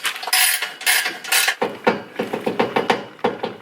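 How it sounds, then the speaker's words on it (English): A straight-piped Nissan GT-R exhaust bangs and rattles against a cross member brace, a series of sharp metallic knocks, several quick clustered hits followed by a faster run of rattles up close. "making a really bad rattling noise"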